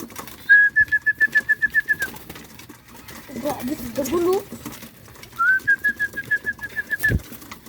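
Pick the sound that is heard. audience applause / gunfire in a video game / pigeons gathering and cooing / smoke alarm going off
pigeons gathering and cooing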